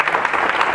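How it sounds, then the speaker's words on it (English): A conference audience breaks into applause, a brief burst of dense clapping from a large crowd in a hall. "let's give Naomi a great big applause"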